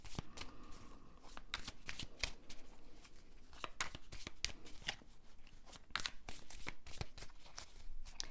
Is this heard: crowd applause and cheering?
no